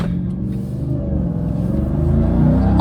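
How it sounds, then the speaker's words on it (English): A Ram TRX pickup truck accelerates hard, its engine revving in a loud, rising roar close by, with no talking. "Oh my gosh, this is a pickup truck!"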